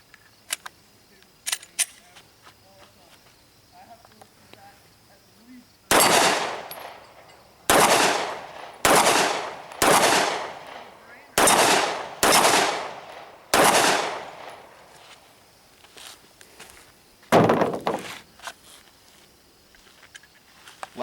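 A Glock 19 Gen 4 9mm pistol fires cheaper hollow-point rounds at a long-range outdoor setting: about nine loud, sharp shots roughly a second apart, preceded by a few faint, distant reports.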